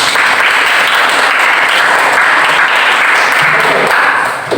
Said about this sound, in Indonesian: Ya, tepuk tangan untuk pemirsa.